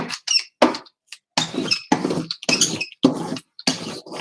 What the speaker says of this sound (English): Excuse the squeaky brayer.